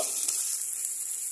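Cumin, ginger and chili paste frying in a pan gives a steady, close, loud sizzle throughout, with a brief stir or scrape near the start and no talk.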